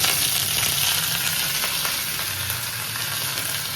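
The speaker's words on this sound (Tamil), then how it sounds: "கடுகு போட்டு இப்போ கருவேப்பிலை போட போகிறோம்." Mustard seeds and curry leaves sizzle steadily in hot oil as a tempering for coconut chutney, a continuous close crackling fry with no talk.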